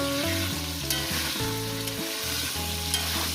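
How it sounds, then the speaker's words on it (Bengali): Pointed gourd (potol) pieces frying in oil alongside potatoes for a vegetarian curry; a constant bright sizzle fills the clip beneath a steady background music track, with no talking. "এরপর দিয়ে দেবো এই পটল পটলগুলো দিয়ে আর আমি মিনিট চার পাঁচ মিনিট ধরে ভেজে নেব"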